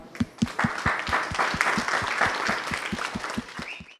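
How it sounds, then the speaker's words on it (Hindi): Women in an audience applaud together, a handful of hands clapping in a quick, roughly regular rhythm at moderate loudness for several seconds. "इस सब के लिए आप सभी के लिए एक ज़ोरदार ताली।"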